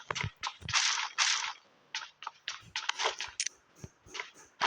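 Rapid gunfire from PUBG Mobile, a mobile battle royale game, arrives as sharp bursts and single cracks in an irregular rhythm, loud and close, with brief gaps between shots and no talk.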